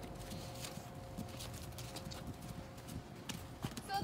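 Hooves of horses free lunging in a round pen, a steady clip-clop rhythm of repeated footfalls at moderate distance over faint background noise, with no talking.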